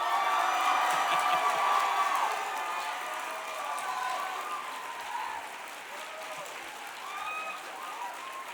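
Audience applause with cheering and a few whoops at a pro-life summit talk: a large indoor crowd claps loudly at first, then slowly fades over several seconds.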